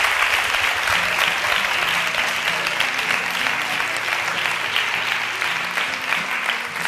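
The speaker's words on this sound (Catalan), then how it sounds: "Sí, podeu aplaudir, i tant, i tant" A Catalan television studio audience, including a school group, applauds steadily, with dense, even clapping that fills the space from start to finish while a voice is faintly heard beneath it.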